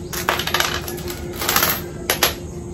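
Coins from an opened piggy bank clinking and rattling in scattered bursts, bright metallic jingles with short pauses, close and fairly loud over a faint steady hum.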